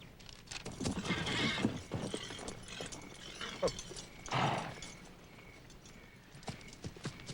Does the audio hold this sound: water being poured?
no